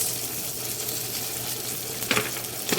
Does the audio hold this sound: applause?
no